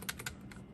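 A few quick, light keystrokes clack on an iMac G3 computer keyboard, faint and close, with no voices.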